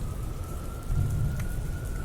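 Steady rain pours down on a rainy fall day, a dense continuous hiss with a faint steady tone running through it.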